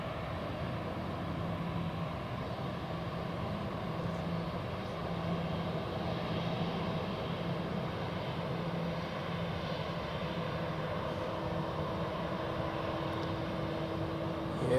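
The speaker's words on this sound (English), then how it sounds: "Etihad takes off on runway 28" A special-livery Etihad Boeing 787-10 takes off from runway 28 at Zurich, its steady, broad jet roar holding level and loud throughout, with no voices.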